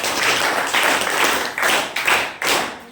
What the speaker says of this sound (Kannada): ಅವ್ರಿಗೆ ಮತ್ತೊಮ್ಮೆ ನಿಮ್ಮೆಲ್ಲರ ಪರವಾಗಿ ವಿಶೇಷವಾದಂತಹ ಚಪ್ಪಾಳೆಯನ್ನು ಹಾಕ್ತಾರೆ